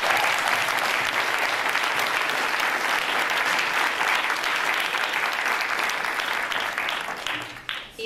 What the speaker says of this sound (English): and a round of applause is certainly due.